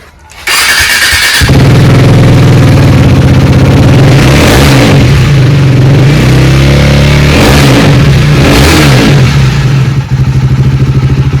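A used motorcycle at a second-hand bike showroom starts up and revs loudly and close by, its engine rising and falling through several throttle blips over a steady idle, with no talking.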